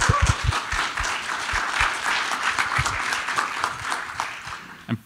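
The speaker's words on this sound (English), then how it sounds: "So give another round of applause." Audience applause at a tech conference talk on continuous delivery for Azure serverless, a dense sustained crowd clapping with steady texture throughout, no talk over it.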